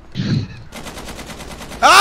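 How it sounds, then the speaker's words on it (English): Gunfire in a GTA roleplay game: a burst of rapid evenly spaced shots rattles through the middle, followed by a loud sharp blast at the end, with brief voice-like sound near the start. "Oh, shooting! Who's shooting?"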